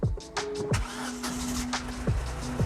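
A worn three-cylinder car at an Australian auction cranks and catches in repeated short bursts, its rough, lurching engine sputtering unevenly at close range.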